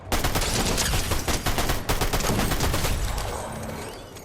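Rapid video-game gunfire rattles almost nonstop in dense, loud bursts with a brief gap near two seconds, then trails off into a fading tail.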